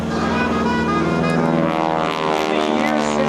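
A 5,500-pound T-6 Texan propeller airplane climbing over the top in an aerobatic loop at an air show, its radial engine droning loudly and steadily with a shifting pitch as it passes.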